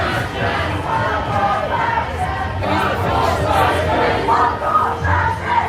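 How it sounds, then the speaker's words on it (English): A large crowd roars and chants at a trans-rights protest in Melbourne, a loud, dense mass of shouting voices that swells and surges in waves throughout. "just the roar of that crowd"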